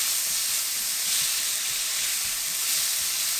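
Soy sauce and oyster sauce sizzle in a hot pan during stir-frying for Korean lunchbox side dishes, a steady bright hiss with soft scraping of stirring running throughout, close and continuous with no talking.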